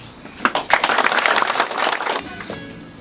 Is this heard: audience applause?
yes